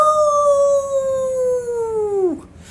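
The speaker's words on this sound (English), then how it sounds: "At that the wolf folk howled with delight." A long, loud, smooth howl in an audiobook of The Island of Doctor Moreau, held steady for over two seconds before dropping off sharply at the end.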